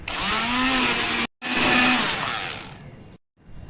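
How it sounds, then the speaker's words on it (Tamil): A blender whirs loudly while blending cooked vegetables seasoned with salt and pepper, in two steady bursts separated by brief stops, with a short tail after the second run and no talking. "எல்லாம் ஒன்றா சேர்ற மாதிரி லைட்டாக பிளெண்ட் பண்ணி எடுத்துக்கலாம்"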